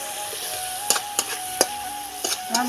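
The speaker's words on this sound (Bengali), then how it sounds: "মশলাটা ভেজে নেব।" Spice paste sizzling in hot oil in a kadai while cooking a Bengali chana dal and soybean dhoka, a steady close crackle with a few sharp spatters and stirring knocks scattered through.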